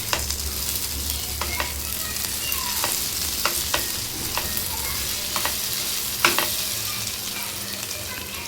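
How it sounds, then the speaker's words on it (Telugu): Cooked onions for a village-style dry fish curry stirred in a pan, with a steady sizzle of oil under repeated scraping strokes of a spoon, close and continuous, no voices. "ఇప్పుడు ఇందులో మనం ఒకసారి కలిపేసుకొని టమాటా యాడ్ చేసేద్దాం"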